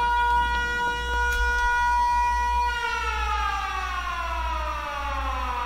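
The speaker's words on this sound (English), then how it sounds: "A siren. That'd be good, wouldn't it? Low power alert." Factorio's low power alert siren wails on its own, with layered tonal harmonics holding steady and then sliding in a long sweeping glide over a low hum. The siren stays continuous and clear for several seconds, with no speech.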